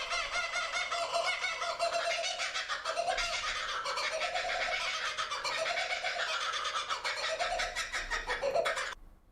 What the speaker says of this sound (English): We get these fucking psycho meat-eating birds that will just laugh at you.